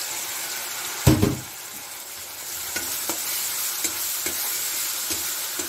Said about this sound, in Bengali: আমি এর মধ্যে দিয়ে দিচ্ছি অল্প হলুদ গুঁড়ো, অল্প ঝাল লঙ্কার গুঁড়ো, আর যে মশলাটা করেছিলাম ওই মশলাটা আমি দিয়ে দিচ্ছি